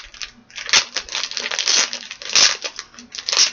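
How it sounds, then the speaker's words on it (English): Plastic wrap is crinkled and torn off a book from a January Owlcrate subscription box, giving close, loud bursts of crackling and rustling. "Let me take the plastic off."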